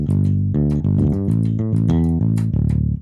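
Bass guitar line built on root, fifth and octave, a run of plucked notes stepping up and down in a bouncy pattern, played loud and close with no voice.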